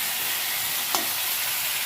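Potato curry sizzles steadily in a pan, a soft continuous frying hiss with a brief stirring scrape partway through.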